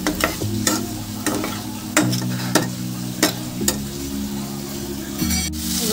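Chopped tomato frying for a pabda fish curry, stirred with a spatula that scrapes and knocks against the pan in regular strokes over a continuous close sizzle.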